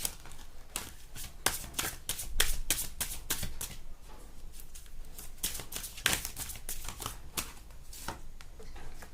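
A deck of tarot reading cards being shuffled by hand, a steady run of quick, crisp riffling snaps and flutters close up, with no voices.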